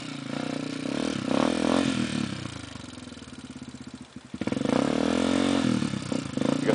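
A trail motorcycle on a dirt trail accelerates hard, its engine revving and surging loudly up close, dipping briefly before roaring back up to full throttle.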